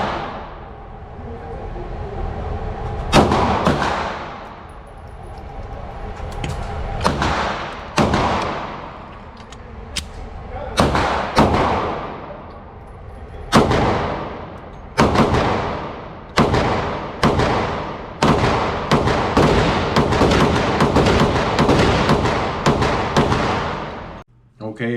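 Smith & Wesson M&P 2.0 10mm pistol firing full metal jacket ball ammunition, a long string of loud, sharp gunshots at an uneven pace, spaced apart early and coming faster toward the end, with echoing decay.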